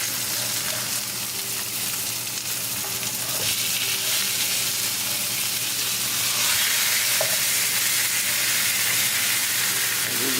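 Breaded pork loin chops fry in a covered pan over a medium flame, giving a steady, close sizzle that runs unbroken for the whole stretch, with a few faint clinks on top.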